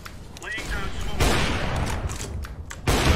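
Counter-Strike gunfire during a competitive match, loud bursts of rapid shots in quick succession with a heavy volley near the end, under people talking.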